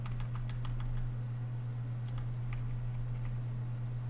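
Rapid keystrokes on a computer keyboard during game-development work, clicking in quick irregular bursts at close range over a steady low electrical hum, no talking.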